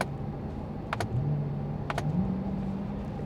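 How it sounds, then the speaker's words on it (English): Two crisp paddle-shifter clicks inside a C8 Corvette, about one second apart, stand out sharply over a steady low engine hum in the cabin, followed by a slight rise in engine pitch. "every single time I hit the paddle shifter, it makes this amazing click sound"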